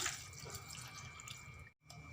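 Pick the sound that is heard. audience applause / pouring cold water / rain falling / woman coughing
pouring cold water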